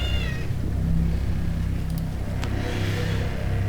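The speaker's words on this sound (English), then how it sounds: "Please ignore the cat. He is being quite loud and annoying" A male cat meows loudly and insistently near the microphone, one drawn-out call over a steady background hum, with no talking.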